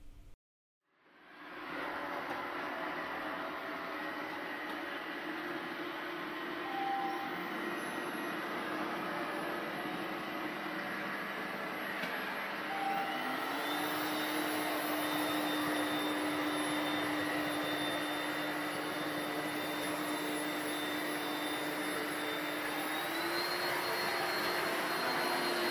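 Ecovacs Deebot T10 Turbo robot vacuum running its suction at speed, a loud steady whooshing roar with a faint whine that shifts pitch slightly partway through, close and continuous with no talk.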